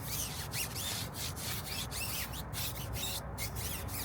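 A soft CarPro brush scrubs a car wheel's lug nuts and brake caliper during a wash, producing continuous quiet rhythmic swishing and rubbing strokes close by.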